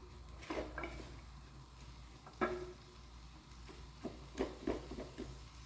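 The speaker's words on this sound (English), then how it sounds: "now we're going to go back and we're going to just saute this." Vegetables sautéing in a pan while a sauce is prepared, heard as a quiet, faint sizzle broken by several soft scrapes and clicks of stirring.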